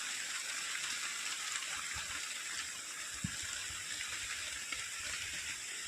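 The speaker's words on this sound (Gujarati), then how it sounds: "જબરજસ્ત વરસાદ ચાલુ થઈ ગયો છે આ બાજુ તો" Heavy unseasonal rain pouring down with wind, a steady dense hiss of drops on surfaces with a few louder splashes, continuous and fairly close.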